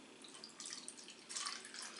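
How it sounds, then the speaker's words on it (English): Vinegar poured from a container into a measuring cup at home, a soft trickling stream with splashy bursts that swell twice over two seconds, fairly faint. "we're going to pour some of the vinegar into our measuring cup"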